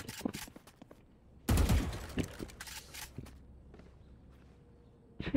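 Bursts of rapid gunfire crackle through a busy game soundscape, with a heavy volley in the middle and scattered shots around it.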